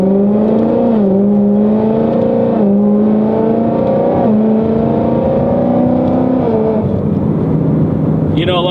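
A straight-piped Ford Mustang GT engine drones loud and close from inside the car, pitch climbing in steady steps through gear changes with a sharper rasp at the end, a voice talking over it.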